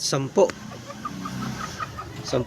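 A grey brooding hen sitting on a clutch of ten eggs gives short, close clucks at the start and again near the end, with softer murmuring in between.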